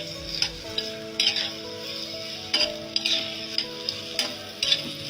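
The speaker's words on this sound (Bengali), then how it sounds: "এখন পেঁয়াজগুলো একটু ভেজে নিব।" Onions frying in a little oil in a pan for chepa shutki bhorta, a steady close sizzle broken by repeated scraping stirs and light clinks of the utensil against the pan.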